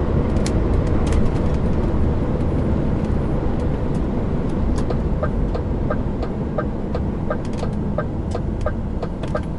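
Road traffic passing on a Greek road, a continuous broadband roar of engines and tyres that stays loud throughout, with scattered clicks and light rattles on top and no talk.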